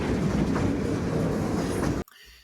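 A freight train backs down into a rail interchange to drop off cars for the Pittsburgh and Ohio Central, giving a steady, loud rumble with wheel clatter that cuts off abruptly near the end.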